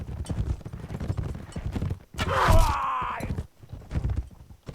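A horse gallops in Mount&Blade: Fire and Sword, its hooves drumming in a quick clip-clop rhythm, with a loud neigh rising in the middle; the hoofbeats carry on close and steady throughout.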